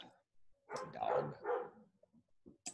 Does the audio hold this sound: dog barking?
yes